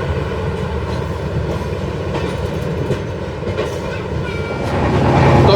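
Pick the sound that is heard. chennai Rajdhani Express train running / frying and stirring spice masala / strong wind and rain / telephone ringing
chennai Rajdhani Express train running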